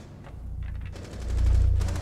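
Gunfire in Rainbow Six Siege from a hatch, a rapid burst of shots that swells into heavier, louder firing, moderately close and with no talk.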